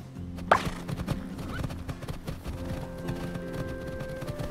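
Horse hooves clip-clop steadily during a ride in the PC game Horse Club Adventures 2: Hazelwood Stories, a soft, even rhythm of footfalls with a brief whinny-like accent near the start.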